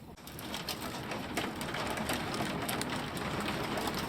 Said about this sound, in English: Oh my gosh, hear that rain?